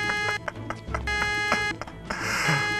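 Car alarm in Project Zomboid, a harsh electronic tone pulsing in short repeated bursts, then a wider noisy blare near the end, loud and close with no talk.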